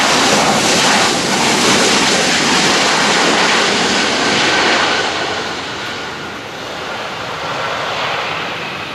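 A Boeing 737-800 jet on the runway, its engines roaring loud and steady as a broad sustained rush that eases slightly toward the end, with no talk.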